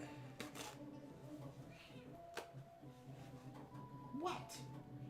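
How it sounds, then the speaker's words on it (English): A cat lets out a short meow near the end, faint and rising, over a quiet room hum with scattered clicks and small handling sounds at a hobby workbench. "Freaking cat."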